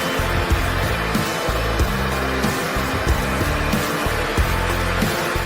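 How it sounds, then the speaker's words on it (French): A hair dryer running at maximum power, used to float ping-pong balls in its airstream, gives a loud, steady, continuous whooshing roar with a low rumbling undertone that holds unchanged throughout. "Allumez le sèche-cheveux à sa puissance maximale"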